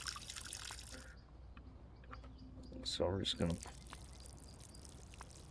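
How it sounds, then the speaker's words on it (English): Plants being watered in the video game Schedule 1: a short splashing pour of water rises for about half a second mid-clip over a steady background hum, with someone talking before and after. "we're actually going to water our plants"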